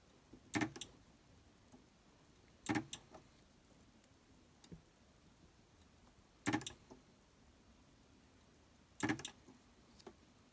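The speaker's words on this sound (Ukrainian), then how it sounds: "Спочатку зваримо цих 4 акумулятори." Spot welding of Li-ion 18650 laptop battery cells: four sharp, brief welding snaps spaced a few seconds apart over a faint quiet background.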